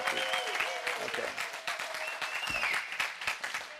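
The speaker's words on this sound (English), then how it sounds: "Let me hear your applause" A lecture audience claps for the speaker in a brief burst of applause, with some voices and tonal sounds mixed over the clapping.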